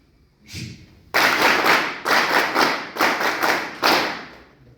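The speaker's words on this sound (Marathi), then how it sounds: "एक लयबद्ध टाळी वाजवून आपण त्यांचं स्वागत करूया" Audience at a welcoming ceremony giving rhythmic applause, a soft early clap followed by several loud, evenly pulsing bursts of unified clapping from a crowd.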